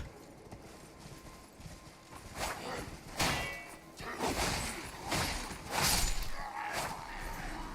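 Torrent, the summoned horse in the video game Elden Ring, gallops with rhythmic clip-clop hoofbeats that swell and fade in repeated bursts, mixed with game effects and some voice in the background.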